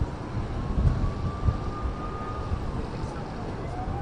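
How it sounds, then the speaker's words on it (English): A distant air-raid siren in Israel wails, rising and falling faintly beneath a steady low rumble of engine or wind noise. "I'm hearing sirens on this."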